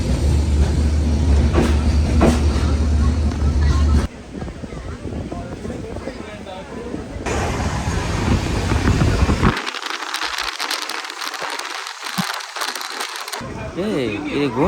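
Rumbling, rattling Golden Chariot Express train noise with shifting character as it departs Chennai Central, loud and close, with wind buffeting the microphone and intermittent talk.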